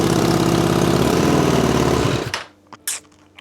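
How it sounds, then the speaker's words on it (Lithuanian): Suzuki GSF Bandit motorcycle engine runs loudly and steadily at a close idle just after starting, then cuts off abruptly, leaving a few brief knocks and clatters in near silence. "Variklis užsikūrė."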